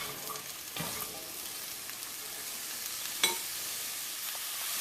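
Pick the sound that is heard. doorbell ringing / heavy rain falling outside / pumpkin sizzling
pumpkin sizzling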